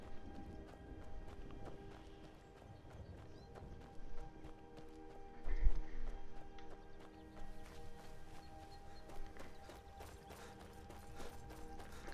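Hooves clip-clop steadily as a horse runs in the video game Skyrim, a rhythmic patter with a brief heavier thump midway over game ambience and music, no speech.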